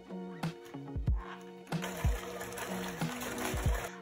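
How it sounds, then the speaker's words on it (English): A whisk creaming eggs and an egg yolk into cookies and cream Oreo cookie dough in a bowl, rhythmic close strokes with thumping knocks against the bowl, repeating steadily with no talk. "I'm going to switch back over to my whisk and cream this up."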